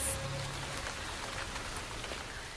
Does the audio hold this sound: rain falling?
yes